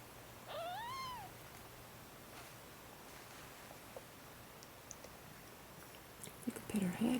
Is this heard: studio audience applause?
no